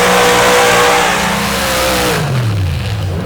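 A nitrous dirt drag racing car roars past loudly, its engine note sustained and then dropping in pitch as it speeds away down the track.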